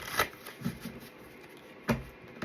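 A deck of oracle cards is shuffled close by, with crisp riffling bursts and soft flicks coming in uneven bursts over a quiet room.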